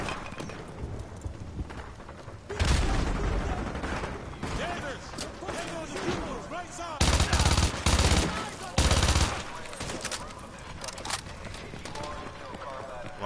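Vector submachine gun fire in Call of Duty: Modern Warfare 2 Remastered campaign, loud rapid-fire bursts in two or three clusters, with game ambience and talk in between.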